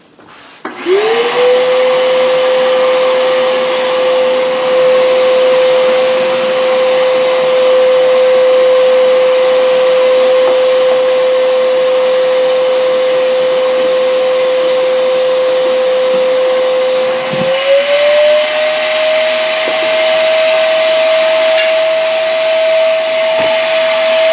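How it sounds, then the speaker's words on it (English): A wet/dry shop vacuum, used to clear a 6-inch spiral-cut jointer, runs loud and steady with a high whine, shifting slightly in pitch partway through and continuing without talk. "Turn the wet dry back on."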